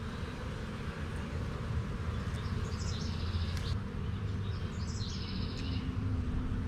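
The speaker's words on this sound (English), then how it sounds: "So these are worker bees, and then these are the male bees, the drones." Honey bees buzz at an apiary hive at a camp in a low, continuous drone held close to the listener, with a few faint bird chirps above it.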